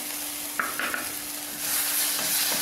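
Fenugreek leaves sautéing in a pan, a continuous hissing sizzle with a steady hum underneath, interrupted by a few short scraping stirs of the spoon through the greens.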